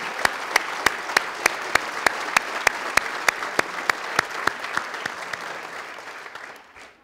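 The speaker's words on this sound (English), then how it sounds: "I would like you to give him a round of applause." A hall of fame banquet audience at a university breaks into sustained applause, a dense wash of clapping with a steady rhythmic cluster of clappers in unison. The clapping starts strong and fades away after about six seconds.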